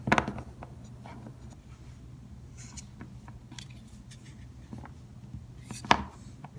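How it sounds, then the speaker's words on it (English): A ruler edge presses and slices through a slab of modeling clay on a flat surface, giving soft close scraping and tapping contacts, with one sharper knock near the end. "And then I can use a ruler or a stick to cut it."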